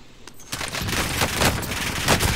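Continuous gunfire in Call of Duty: Warzone, a dense rattle of overlapping automatic shots that starts abruptly and keeps up loudly through the whole short stretch.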